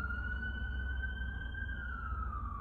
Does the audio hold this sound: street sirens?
yes